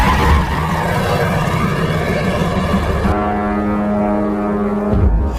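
A stolen sheriff's car in a film tears away with squealing tires and a roaring engine, loud and close. The engine tone then settles into a steady droning hum before it cuts out.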